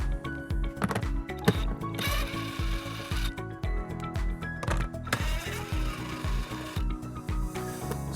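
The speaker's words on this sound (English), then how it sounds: "We're going to remove these 2 nuts using a 10mm socket." A 10mm socket wrench works nuts loose on a 2021 Tesla Model S during a trailer hitch install, giving close, rhythmic ratcheting clicks and metallic rubbing in steady repeated strokes.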